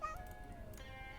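A soft, drawn-out cat meow from a video game, fairly quiet and heard alone, with a gently falling tone.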